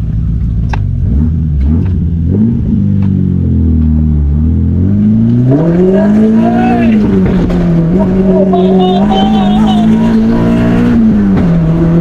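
A car engine revs hard and climbs in pitch as it accelerates, loud and close, with a rumbling drone throughout and voices faintly underneath.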